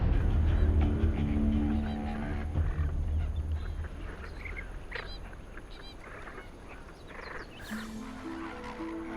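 A huge breeding colony of lesser flamingos on caustic alkaline lake water gives a dense, continuous clamour of honking, goose-like calls, loud and overlapping from many birds at once, over a low rumbling background.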